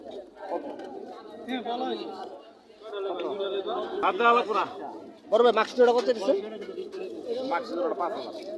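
Pigeons coo at the Tongi pigeon market, soft throaty coos and bird chatter mixed beneath close conversation between people bargaining.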